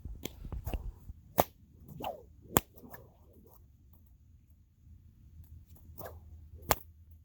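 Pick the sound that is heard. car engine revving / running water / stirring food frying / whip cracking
whip cracking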